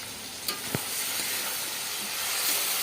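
Chicken kosha, a Bengali-style spiced chicken, sizzles steadily as it is sautéed in oil in a pan, with a couple of brief stirring clinks early on; a continuous close frying hiss with no talking.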